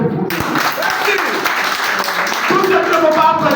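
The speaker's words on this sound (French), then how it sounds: "Applaudissez pour vous." An audience claps and applauds at a community gathering, a dense burst of hand claps rising after a brief pause and continuing steadily.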